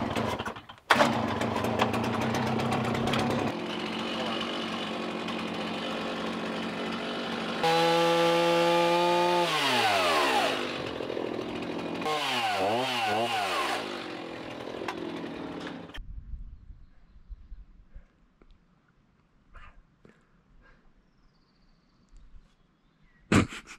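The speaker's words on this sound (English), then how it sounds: "Chainsaw's right here." Chainsaw cutting out a window in a two-story cabin tower in the mountains, a loud sustained engine drone with rising and falling revs as the bar bites into wood, then cutting off to quiet.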